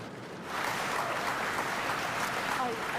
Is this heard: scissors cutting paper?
no